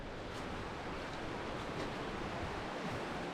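The Buchan River, flooded after heavy rain, rushes in a steady broadband roar of fast water, faint and continuous, with no voices over it.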